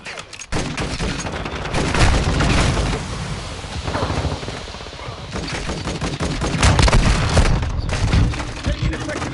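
Heavy gunfire from Call of Duty Modern Warfare 2 rattles in dense bursts and booming volleys throughout, loud and continuous with explosive thuds, no clear speech over it.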